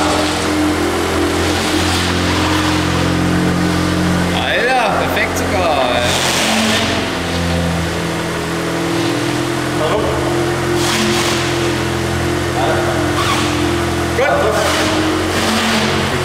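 A Volkswagen Golf 8 GTI rolls slowly with a steady low engine hum, its drone continuing under occasional nearby talk as it edges back to a parked spot.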